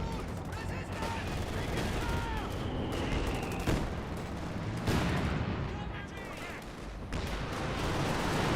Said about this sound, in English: Still got the Katusha barrage